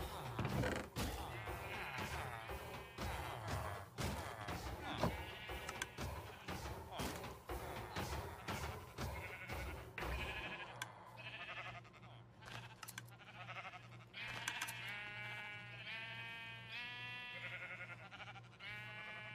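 Sheep in the Minecraft video game bleat repeatedly while being sheared, short nasal cries recurring over dense game sounds, with a person talking over parts of it.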